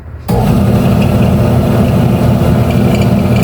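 A washing machine motor with a fault that makes it noisy on and off starts abruptly and runs in a loud, steady, close hum with a rough mechanical texture.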